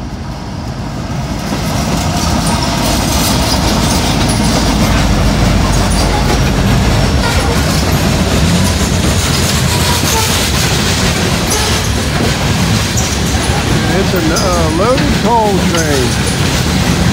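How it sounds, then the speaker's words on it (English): A Norfolk Southern coal freight train passes close by at the Kenova bridge in West Virginia near dusk, giving a loud, continuous rolling rumble of wheels on rail, with brief squeals toward the end. "Friday must be coal train day in Kenova."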